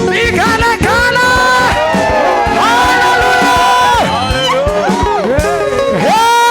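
A worship congregation ululates and cheers during a praise session. Many high, wavering trilled voices sound loud and continuous throughout, with shouts mixed in.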